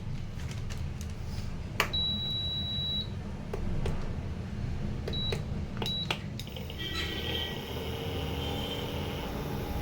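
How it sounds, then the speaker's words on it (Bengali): Induction cooktop switched on in a home kitchen, giving a few short, high electronic beeps, one held a little longer, then a soft hum starting up, all close and fairly quiet over low background noise, with no talk. "এবার ইন্ডাকশানটা চালু করছি।"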